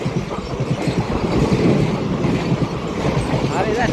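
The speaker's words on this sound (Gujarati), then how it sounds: "જો આવી માલગાડી છે ટ્રેન છે ટ્રેન છે ભાઈ" A long freight train passes on the railway track near an old village station, its heavy rumble and rhythmic rattle of wagons rolling steadily up close, with voices faintly talking over it.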